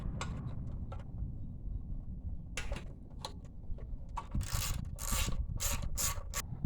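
A bolt is undone on the engine of a 1968 Tote Gote trail bike. Quiet close ratcheting clicks and metallic rubbing come in irregular bursts, growing busier and louder toward the end, with no voices.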